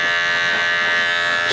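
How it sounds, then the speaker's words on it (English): A Super 120s cordless hair clipper runs in a barbershop with a steady, high-pitched electric buzz, constant and close throughout. "Super 120s, another strong cordless clipper."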